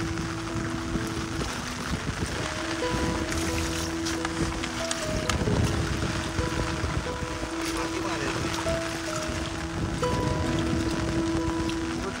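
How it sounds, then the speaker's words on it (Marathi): Heavy monsoon rain pours steadily in the Konkan countryside, a dense, unbroken hiss that fills the whole stretch, with murmuring voices and faint tonal sounds mixed underneath. "पाऊस पडतोय कंटिन्यू."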